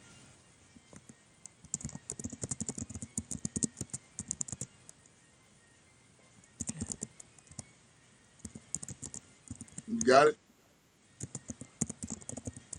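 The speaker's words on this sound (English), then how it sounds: "I'm typing it in right now. Is my keyboard real loud?" Bursts of rapid clicking from a computer keyboard, close and clear, pausing between runs; a short spoken phrase interrupts once.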